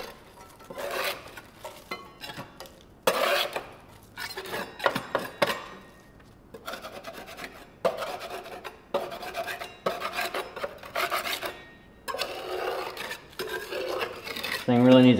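Gunk is scraped out of an old, dumpster-salvaged walk-behind vibratory roller in repeated rough, rasping strokes. The strokes come in uneven bursts with short pauses, close and loud, with no talk.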